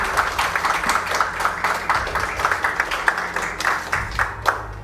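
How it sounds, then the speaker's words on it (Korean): An audience at a Korean Information Security Day ceremony applauds a presidential-citation award winner during a photo moment, with steady moderate clapping from a crowd throughout. "여러분 따뜻한 박수로 함께 축하해 주시면 감사드리겠습니다"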